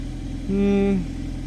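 A Toyota MR2's engine idles steadily while warming up, a low continuous drone with a brief louder tonal swell near the middle, heard close and alone.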